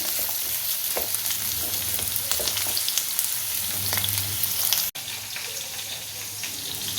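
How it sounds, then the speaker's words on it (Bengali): Potatoes frying lightly in a pan with black cumin, a steady close sizzle with occasional stirring scrapes, briefly cut off partway before the sizzle resumes. "এবার আলুগুলো ভেজে নেব আলুগুলো হালকা করে ভাজবো বেশি ভাজবো না"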